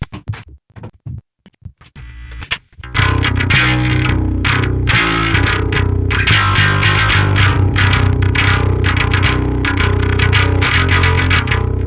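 A bass runs through the Neural DSP Parallax X plugin on the Chugalax preset, playing heavily distorted metal chugs. A few sparse plucks come first, then a dense, loud, sustained riff.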